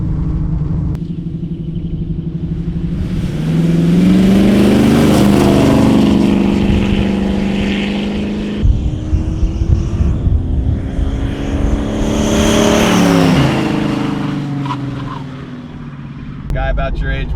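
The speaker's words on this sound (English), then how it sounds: "that is the muscle car from the 70s" A 1970s muscle car engine revs up and down in loud, rising and falling sweeps, with brief pauses between pulls, heard close and alone.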